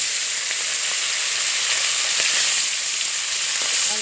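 Small puti fish frying in hot oil, a loud, even, close hiss of sizzling that holds steady from start to finish, with no talking over it.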